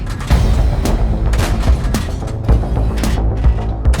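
Tank cannon shots in a tank video game with an autoloader, a dense run of heavy booming blasts over low engine rumble, several sharp reports in quick succession, loud and close.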